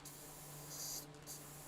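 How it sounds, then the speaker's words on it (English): A spray can hisses paint into the inside of a miniature. It is a short, close, steady spray that swells briefly in the middle, with a low background hum and no talking. "now I'm spraying the insides again"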